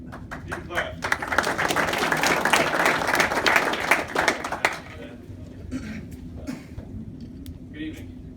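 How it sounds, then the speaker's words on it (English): A room of classmates breaks into applause at a training class awards ceremony, loud dense clapping for about four seconds that thins into scattered claps, with people talking around it. "You can clap."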